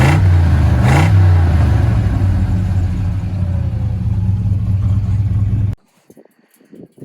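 A 1985 Chevrolet K20 Suburban with an LS engine swap and a turbo cam runs loudly up close, its rumble rising and falling through revs for several seconds before it cuts off abruptly into near silence.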